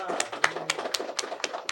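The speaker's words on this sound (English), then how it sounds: "Can we please have a round of applause for Andrea," A panel audience gives sparse, evenly spaced claps for a panelist, a few distinct hand claps at a moderate pace, with a voice speaking underneath.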